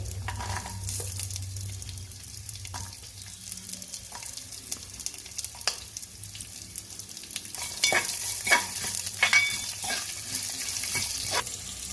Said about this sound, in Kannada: ನಾನು 2 ಚಮಚದಲ್ಲಿ ಎಣ್ಣೆ ತಗೊಂಡಿದ್ದೀನಿ. ಈಗ ಶುಂಠಿ ಹಾಕ್ತಾ ಇದ್ದೀನಿ.